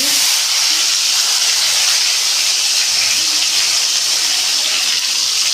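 Mustard and fennel seeds spluttering in hot oil, a steady loud hiss of frying that runs unbroken throughout, with no talk over it.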